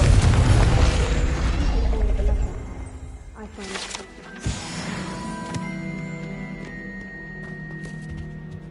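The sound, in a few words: Confringo blast spell in Hogwarts Legacy video game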